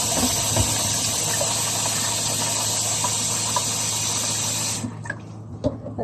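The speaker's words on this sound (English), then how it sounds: "Some cold water on it." Cold water pours steadily from a kitchen tap over rice being rinsed in a pot to wash off the starch, a loud continuous gush that cuts off near the end, followed by a few faint clinks.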